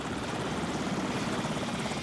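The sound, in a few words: US-built military transport helicopters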